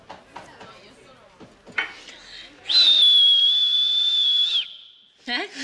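A loud, piercing sustained shepherd-style whistle held for about two seconds, preceded by brief clatter and followed by a short voice.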